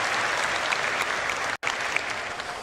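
Audience applause fills a large convention hall at a Star Citizen fan event, a dense steady clapping that continues loudly with a brief cut partway through.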